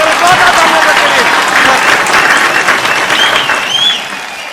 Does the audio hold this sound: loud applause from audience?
yes